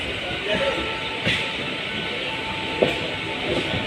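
A train at Nampally railway station gives a moderate, steady rumble of wheels and cars, with a few faint knocks and clanks standing out.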